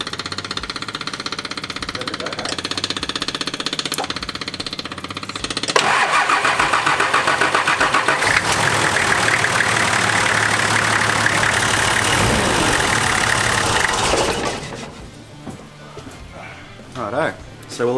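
A Nissan Patrol TD42 diesel engine cranks and catches after an oil change, then runs with a loud, steady rumble for several seconds before settling down quieter near the end.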